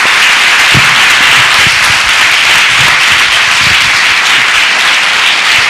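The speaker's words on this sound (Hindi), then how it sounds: "मैं चाहता हूं सबसे पहले यीशु मसीह के नाम से उसके लिए ताली बजाएं।" A church congregation applauds in a dense, steady wash of clapping that stays loud for several seconds.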